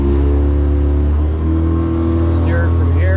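Twin Yamaha F200 outboard engines on a North River 2700 wide-body boat run in gear with a steady, loud, low droning hum, while someone talks over the engine noise.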